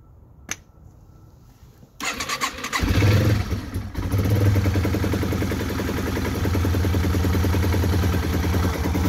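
A cold, choked 2005 Yamaha TW200 motorcycle cranks briefly after a click, then its single-cylinder engine catches and settles into a loud, steady, close thumping idle.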